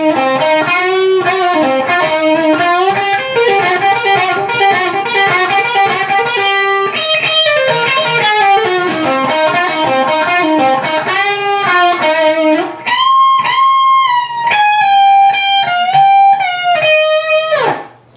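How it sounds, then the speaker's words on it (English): Distorted electric guitar plays the melodic solo from a song, a loud, sustained lead line of bending and flowing notes with rhythm backing, stopping abruptly near the end. "the solo will sound like this"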